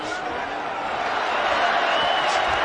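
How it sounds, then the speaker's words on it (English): A boxing arena crowd roars and cheers for Canelo Alvarez during his fight with Alfonso Gomez, a steady, dense wall of noise with a commentator talking over it. "Crowd trying to lift Canelo back in forefront of the fight"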